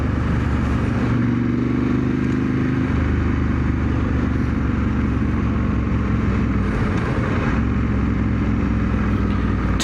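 A Ducati 916 motorcycle ridden on the road, a loud continuous engine drone with wind rush, holding fairly steady throughout with slight shifts in pitch and no talking.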